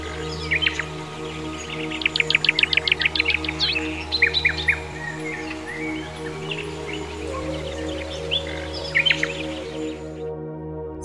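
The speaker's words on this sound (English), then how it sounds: "Sounds of chirping birds." Small birds chirp outdoors in quick bursts of rapid, high trills and tweets over a low steady background hum, some calls near and others farther off.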